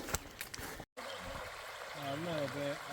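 Lick Creek on the Appalachian Trail, near a washed-out bridge, gives a steady, soft rushing hiss of flowing water, briefly cut off, while someone speaks over the latter part.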